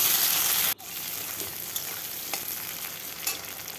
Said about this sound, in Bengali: আলুটা দিয়েও বেশ কিছুক্ষণ ভেজে নেব